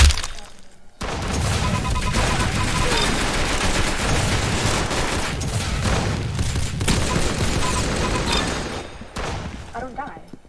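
Dense, loud automatic gunfire from a video game weapon runs almost without a break, with crashing impacts mixed in and a voice talking over it.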